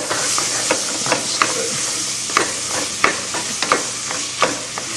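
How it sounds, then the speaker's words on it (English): Onion and bacon sizzle in a pan while a utensil scrapes the bottom, giving a steady frying hiss broken by a string of short, close scraping strokes. "you just want to scrape the bottom of the pan kind of gently and get all the little brown bacon bit pieces up"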